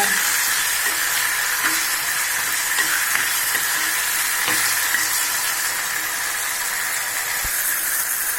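Plantain and curry leaves sautéing in a pan for a tamarind curry, a continuous steamy sizzle and hiss with a few faint stirring clicks.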